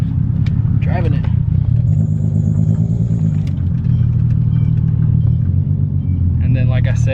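Nissan 300ZX engine idling and creeping in reverse with a steady, loud low rumble throughout, while a person talks over it.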